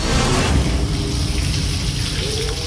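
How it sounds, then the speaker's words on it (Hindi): A bucket of water poured over a Shiva lingam at a temple, giving a loud, continuous rushing splash close by that runs without a break from start to finish. "लोटे से काम नहीं बना तो हमने सीधे बाल्टी से पानी डालना शुरू किया।"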